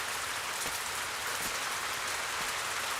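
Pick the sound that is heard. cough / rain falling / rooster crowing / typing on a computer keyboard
rain falling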